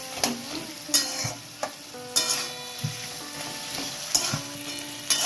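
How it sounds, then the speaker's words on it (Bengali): Spice masala for muri ghonto sizzles in a pan while a spoon scrapes and stirs it, with sharp clanking strokes about once a second over a steady frying hiss, close up. "এখন এটা একটু কষিয়ে তারপরে আমি জল দেবো।"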